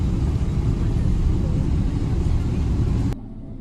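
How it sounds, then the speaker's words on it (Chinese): A passenger airplane taxiing after landing at Hong Kong airport, heard from inside the cabin as a loud, steady engine and rolling roar that cuts off abruptly near the end. "顺利落地，飞机还要继续滑行一段时间。"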